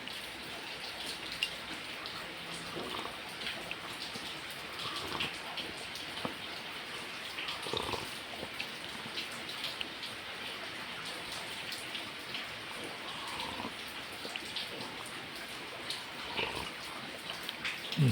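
Steady light rain pattering across surfaces, a soft continuous hiss with scattered drops throughout, no voices.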